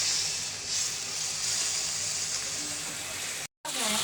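Lukewarm water poured into a curry cooking in the pot brings a loud, steady hissing sizzle that runs almost without pause, with one brief cutout near the end.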